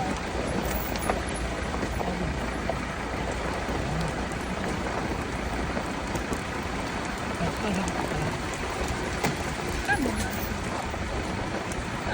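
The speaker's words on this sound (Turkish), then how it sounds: "Çok güzel yağmur yağıyor." Steady rain pours down, a dense continuous hiss of drops hitting surfaces nearby, unchanging in intensity throughout.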